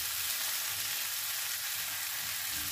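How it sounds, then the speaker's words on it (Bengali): Peas, potato and eggplant frying in a pan, giving a steady, close sizzle that runs without a break for the whole stretch, with no voices over it. "ভেজে নেব মটরশুঁটি, আলু, বেগুন।"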